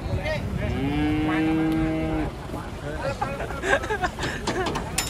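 A loud, drawn-out moo from a large cow being unloaded from a truck rings out up close, followed by lively chatter and background babble.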